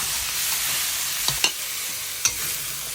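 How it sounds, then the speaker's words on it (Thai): Pork ribs and pork belly stir-fry in a wok for a Thai chap chai soup, giving a steady close hiss of sizzling oil with a few brief scrapes and clicks of the spatula. "เสร็จแล้วใส่ซี่โครงหมูอ่อนหมูสามชั้นลงไปผัดค่ะ"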